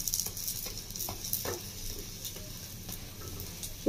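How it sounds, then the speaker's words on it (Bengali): Slices of bread toast with mixed vegetables and egg frying in a pan, a close, steady sizzle with occasional scraping stirs and taps of a spatula, with no talk. "প্রত্যেকটা ঠিক আমি এভাবে কিন্তু ভেজে নিচ্ছি"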